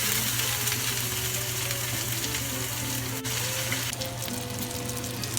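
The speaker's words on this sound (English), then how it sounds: "Pan is ready. Sizzle." Gnocchi sizzle and crackle steadily in a hot frying pan, a close, continuous hiss with a faint clink partway through.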